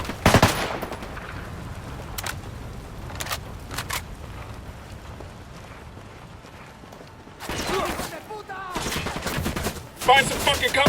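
Bursts of automatic gunfire in the open-world shooter Ghost Recon Wildlands, loud sharp volleys at the start and again near the end with scattered shots between, over a low battle ambience.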